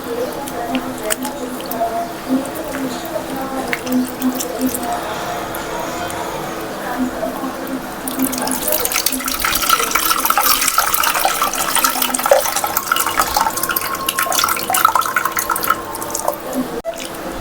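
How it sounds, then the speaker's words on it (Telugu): Tamarind pulp water being poured and mixed by hand in a kitchen while making pachipulusu, with wet sloshing and dripping that turns into a louder, fuller splashing pour partway through. "మళ్ళీ ఇంకొకసారి కలిపి పోసుకుంటున్నాను."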